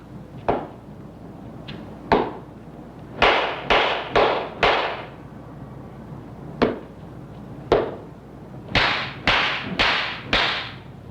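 In a Zen meditation hall, sharp slaps land on the shoulder one after another. There are about a dozen crisp, loud cracks, some single and some in quick runs of three or four, separated by quiet pauses with a low background hum.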